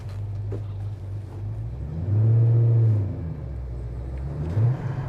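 A supercharged 2011 Chevrolet Camaro HTR SC/675 pulls away with a low droning engine hum that swells into a louder rev for about a second before settling, then briefly rises again near the end.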